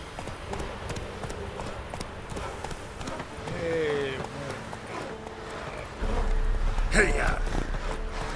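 A horse gallops in The Witcher 3, hooves clip-clopping in a quick steady rhythm at moderate volume, with a voice urging it on partway through and a louder thud of movement near the end.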